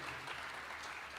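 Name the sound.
congregation applause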